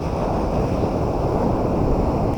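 Waves and wind wash over empty Chintapalli beach near Vizianagaram, a loud continuous surf roar with heavy wind buffeting the microphone and no voices.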